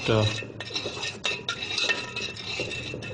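Milk stirred in a metal pan for rasgulla, with a spoon clinking and scraping against the pan in a brisk, close rhythm and a voice faintly under it.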